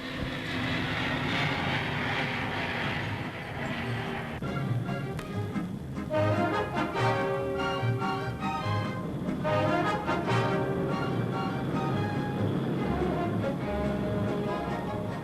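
A 1960s passenger airliner takes off, its engines roaring loudly and continuously with a strong broadband rumble that swells and holds steady throughout.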